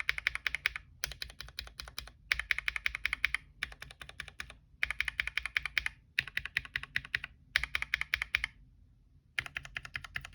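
Fast typing on a mechanical keyboard fitted with lubed Snow White switches, a steady clatter of crisp, close keystrokes in bursts with brief pauses between them.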